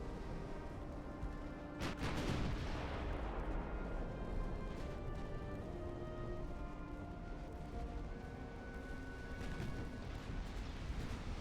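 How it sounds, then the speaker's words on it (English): Naval artillery shelling from range in the warship game Ultimate Admiral: Dreadnoughts, a heavy boom near the start followed by a sustained low rumble and distant rolling thuds, with no talk. "just start shelling them from range"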